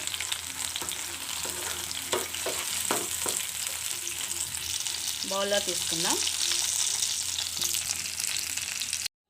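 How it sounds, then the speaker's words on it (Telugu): Cashew nuts fry in a pan with a steady crackling sizzle, broken by a few utensil knocks, while a voice speaks briefly. "చూడండి ఈ విధంగా వేపుకోవాలి వేపుకొని ఇవి కూడా పక్కకు తీసుకుందామండి జీడిపప్పులు"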